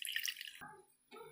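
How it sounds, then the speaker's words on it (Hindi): Water poured into a dish of syrup while making chhena rasgulla, a short bright splash followed by a lower trickle and a brief second pour, close and alone. "इसमें हम डालेंगे कम से कम 4 चम्मच पानी"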